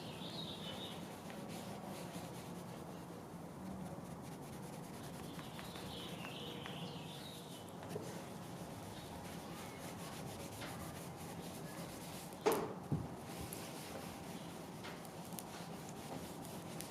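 Cleaner wax is rubbed by hand onto a Lexan sunroof plug on a 1988 Honda CRX Si, a faint, continuous soft rubbing with one brief knock partway through and no speech.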